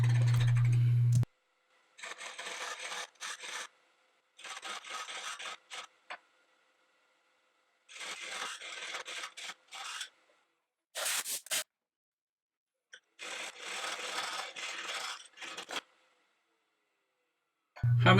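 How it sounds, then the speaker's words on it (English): Wood is hollowed on a lathe with the bars of an Easy Arm hollowing system, making several bursts of scraping and cutting of a few seconds each, separated by silences. "I'm moving on to using the two bars from my easy arm hollowing system"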